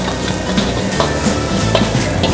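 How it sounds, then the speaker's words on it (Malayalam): Chopped garlic, ginger, onion, celery and green chilli sauté in a hot pan for a smoked squid dish, a loud, close, continuous sizzle broken by repeated stirring scrapes and light utensil clinks, with no talking. "ഈ മിക്സ് നന്നായിട്ട് വഴറ്റി നന്നായിട്ട് ബ്രൗൺ ആക്കി എടുക്കും"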